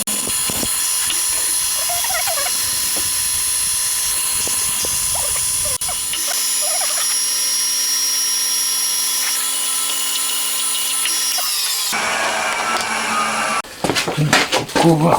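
Close, continuous machining of an engine crankcase: a steady mechanical whine and grinding as an end mill cuts a flat, with a shift to rougher cutting noises near the end as a center drill goes in.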